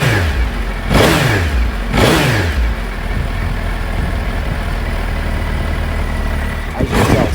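A 2014 second-generation Suzuki Hayabusa with its stock exhaust sits idling in a low, fairly quiet rumble, with three sharp throttle blips that rise and fall, two close together early and one near the end.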